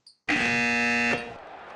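A loud, sustained electronic buzzer in the basketball video game Hoop Land marks the end of a half, a steady tone lasting nearly a second after a brief faint blip, then cutting off cleanly.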